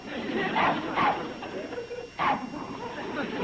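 A dog gives a few short barks and yips, close by, with a voice murmuring in the background between them.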